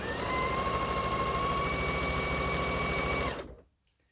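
A sewing machine runs steadily for about three seconds, stitching quilt seams with a continuous motor whine, then stops. No voices.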